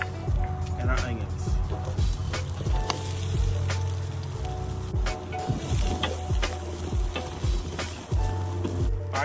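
Garlic and onions sizzle and fry in olive oil in a paella pan, a steady crackling hiss with scraping stir strokes, heard close under ongoing talk.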